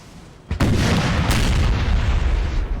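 Artillery fire in a Napoleonic Total War 3 battle, a sudden heavy boom followed by sustained rumbling cannon barrage and booming, loud and dense.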